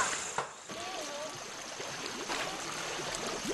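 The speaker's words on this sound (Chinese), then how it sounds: "玉坎海一家每天的生活都离不开村边这条小溪" A small village stream flows with a soft, steady trickle and gurgle, faint and continuous throughout, with no voices.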